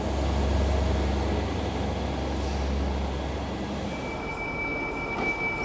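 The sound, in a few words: Great Western Railway train at Ely station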